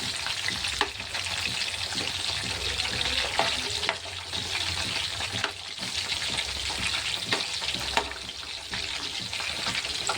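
Chicken pieces frying in plenty of oil make a loud, dense, continuous sizzle that stays even throughout, with a few faint clicks and stirs; no speech.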